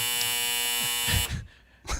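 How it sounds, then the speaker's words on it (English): A clothes dryer buzzer sounding to mark the end of a cycle, a loud steady electronic buzz lasting over a second, then cut off, followed by a brief shorter burst. "Is your dryer done?"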